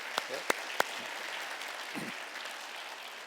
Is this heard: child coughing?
no